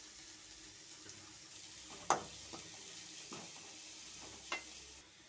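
Minced garlic fries with onions in hot oil, giving a faint, steady sizzle broken by a few sharp clinks and scrapes of stirring in the pan.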